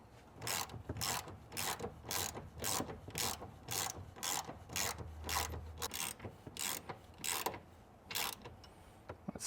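A ratchet clicks rapidly in repeated bursts while a nut is run down during adjustments on a Ferrari, close and steady with brief pauses between strokes and no talk.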